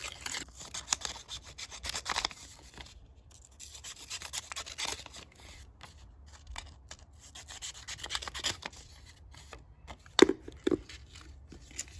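Paper background being trimmed to fit inside a small diorama box, faint scraping and rubbing strokes in irregular bursts with a couple of sharper snips near the end.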